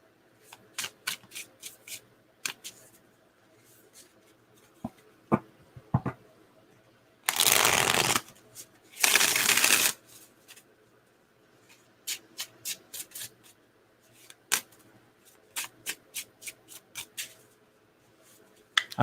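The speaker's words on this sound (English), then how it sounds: "I don't know why I'm shuffling this one." Tarot cards, a Blood Moon Tarot deck, are shuffled in two dense, brisk riffling bursts near the middle, surrounded by scattered soft taps and clicks of cards being handled close up in a quiet room.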